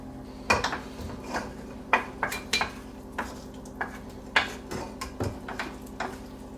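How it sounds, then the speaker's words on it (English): Sauteed sausage and onions go into a crock pot with a series of clanking, scraping utensil knocks against the pot, irregular and fairly close, with no talking. "now that the sausage and onions are all sauteed, everything can just go right in the crock pot now"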